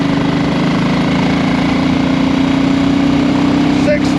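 A BSA Rocket Goldstar motorcycle engine drones steadily and loudly throughout, a constant near engine note from the rider's position with wind noise, no clear rise in pitch evident.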